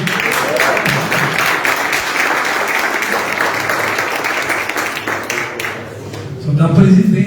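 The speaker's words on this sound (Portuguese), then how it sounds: "Uma salva de palmas para o pastor Onésio." A church congregation breaks into sustained applause for Pastor Onésio at an evening worship gathering, a dense wash of clapping with cheers mixed in, swelling near the end as a voice comes through.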